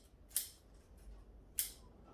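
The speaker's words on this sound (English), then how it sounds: "now I'm just cutting back some of the long branching" Scissors cut back long bonsai branches, giving two crisp, separate snips about a second apart, close and clear over a quiet background.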